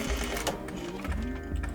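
A sewing machine backstitches across a trouser pleat, a close, steady mechanical whir with a slight shift in pace as the stitch reverses.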